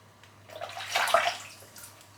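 A shaving razor rinsed under running water, a brief close splashing rush that swells to a peak mid-way and then fades.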